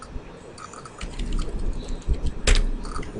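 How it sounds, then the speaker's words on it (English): Someone types on a computer keyboard in a brief run of soft, uneven key clicks, with one sharper tap near the end, close and quiet with no speech. "So as I was typing"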